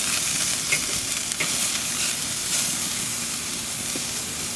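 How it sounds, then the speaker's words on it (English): Butter melting on a hot grill for thin-cut porterhouse steaks sizzles in a steady, close hiss with a few faint pops and crackles, continuous throughout with no talking. "Got the butter melting."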